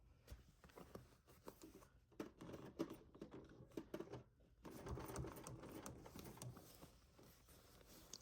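A sewing machine stitches thick layered fabric in fast, close, rattling bursts, stopping briefly and then running steadily again, with no talking over it.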